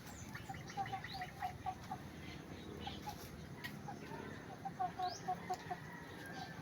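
A chicken clucks in a run of short, faint calls across a rural yard with papaya and banana plants, set against a steady outdoor background hiss.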